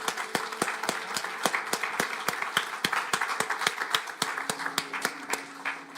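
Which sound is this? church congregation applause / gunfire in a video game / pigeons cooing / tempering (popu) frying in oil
church congregation applause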